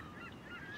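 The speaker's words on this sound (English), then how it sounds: "listen to the sound of the seagulls" Seagulls calling along a seashore, a quick burst of overlapping honking cries heard fairly close against a soft background wash.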